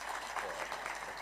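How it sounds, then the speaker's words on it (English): Applause at an IGAD health ministerial meeting as the 13th declaration is received, a steady dense patter of many hands filling the room at moderate level for a brief moment. "A round of applause."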